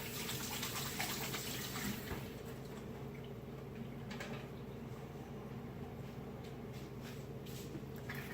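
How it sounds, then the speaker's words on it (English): Tap water gushing steadily into a measuring cup in a home kitchen, a continuous close rushing stream that holds at one level for several seconds, with no talking. "Put some water in the measuring cup."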